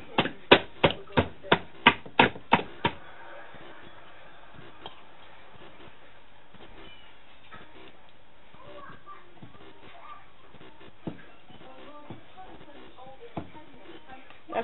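Puff puff dough batter beaten by hand in a bowl, a quick run of about nine sharp, evenly spaced slaps up close at the start, then fainter scattered taps under ongoing talk.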